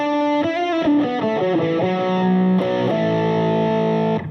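Overdriven electric guitar plays a fast melodic solo run with reverb, then sustains a long ringing note that lingers and swells with a fuller, spacious tail.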